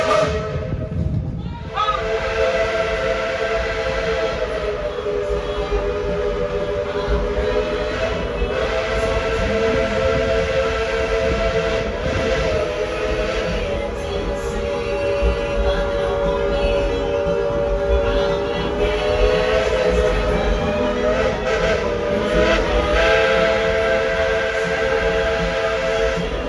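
A Tweetsie Railroad steam locomotive sounds its whistle in long, sustained chime blasts with rolling train noise and steam beneath, loud and close for nearly half a minute.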